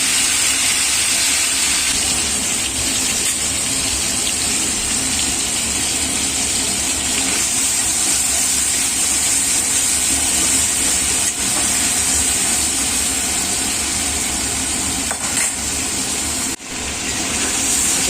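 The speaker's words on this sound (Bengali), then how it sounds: "চিংড়ি মাছগুলো আগে ভেজে নেবো।" Prawns fry in hot oil in a wok, giving a loud, steady hiss of sizzling that runs unbroken for many seconds, with no speech over it.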